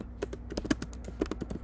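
Quick, uneven keyboard clicks tapping away at close range, a short burst of typing with no voices.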